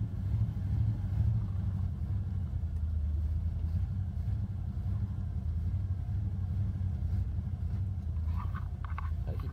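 An old car idles after a second cold start at minus 19 Celsius, having sat all day and stalled once. Its engine holds a steady, low, throbbing rumble, close and continuous, with no talk.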